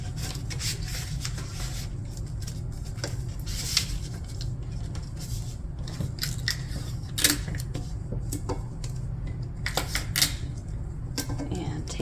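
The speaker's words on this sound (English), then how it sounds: "And tape that on." Tape pulled and pressed by hand onto butcher paper wrapped around a tumbler for a heat press, giving repeated close rasping, tearing and rubbing noises over a steady low hum.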